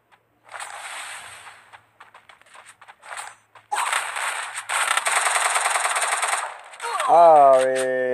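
Shots from the two-shooter weapon in Free Fire's Cold Steel mode come as rapid clusters and scattered single pops, then a long, dense volley. A rising tonal chime closes the stretch.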